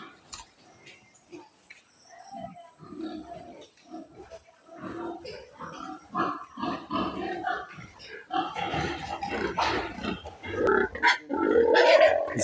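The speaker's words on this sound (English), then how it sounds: "pigs and piglets" Pigs and piglets on a pig farm grunt and squeal, close and irregular, growing busier and louder toward the end, with people talking among the animals.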